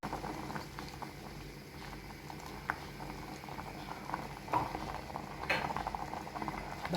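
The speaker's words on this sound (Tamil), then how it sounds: "இங்கே ஸ்டியூ நல்லா கொதிக்குது." A pot of vegetable stew simmers with soft, continuous bubbling and occasional small pops, faint and close, with no talking.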